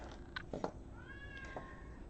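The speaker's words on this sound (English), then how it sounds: "My cat has eaten, don't worry, she's okay. She's just very vocal at her age." An older female cat meows indoors: two or three short, soft calls, then a longer drawn-out meow, fairly faint and somewhat distant in a quiet room.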